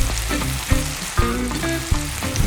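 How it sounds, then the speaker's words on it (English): Breaded pork cutlet deep-frying in oil at 165 degrees, a loud, close, continuous bubbling sizzle with a few sharper pops and clatters breaking through, no voices. "Within the temperature of 165, it takes only 5 minutes to fry the cutlet for it to get real ready"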